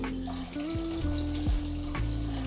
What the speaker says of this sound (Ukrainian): ми його саме отак, дивіться, заливаємо водою